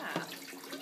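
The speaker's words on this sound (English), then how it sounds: "We're exchanging the dirty water for clean water." Clean water poured into a fish tank during a tank cleaning, a short, steady splashing and trickling pour heard up close.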